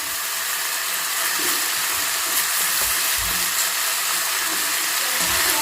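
Spaghetti and vegetables for a vegetarian stir fry are stirred in a hot frying pan, giving a steady, close sizzling hiss with soft scraping and knocking as the food is turned.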